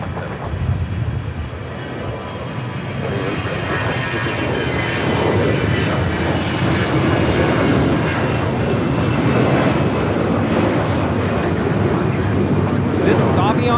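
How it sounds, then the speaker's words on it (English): An Airbus A320 airliner takes off at Los Angeles airport, a loud continuous jet-engine roar that builds and holds steady across the whole stretch, heard from a distance with broad rumbling noise. "This is Avianca 523 taking off to San Salvador on the A320."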